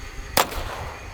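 A single sharp, close crack from a Smith & Wesson Victory .22 pistol loaded with 36-grain .22 Long Rifle rounds, fired outdoors, with a brief fading tail after the shot.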